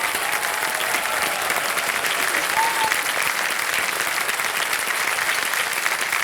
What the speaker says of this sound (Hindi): अच्छा, एक बार जोर से ताली बज जाए आपके लिए।